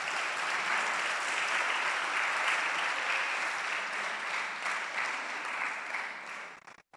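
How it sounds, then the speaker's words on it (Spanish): A church congregation claps loudly and steadily throughout, a dense continuous wash of applause that tapers off near the end. "Dale fuertes palmas a Cristo."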